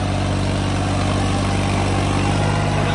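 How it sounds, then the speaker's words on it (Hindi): A New Holland 5620 turbo tractor engine runs with a steady, loud, close diesel drone and a low rhythmic throb, no talk over it. "इसको आप ट्रैक्टर को चला के देखेंगे और इसकी ताकत देखेंगे कितना के है"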